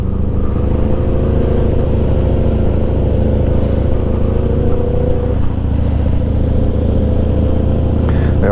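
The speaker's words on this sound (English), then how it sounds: "The old Yamaha R1 in front of us. Just definitely built for speed." A Yamaha R1 sport motorcycle riding ahead on a road in New Zealand's far north, heard as a loud, steady engine drone with road and wind rumble from a following vehicle, holding an even pitch throughout.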